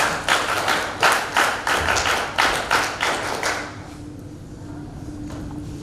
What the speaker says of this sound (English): NTTF clap, go.